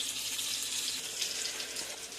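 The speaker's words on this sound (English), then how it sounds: "fill the jar of pasta sauce up with water and cover it" Tap water runs steadily into a pasta sauce jar in a kitchen, a continuous bright splashing hiss heard close up, alone and fairly quiet.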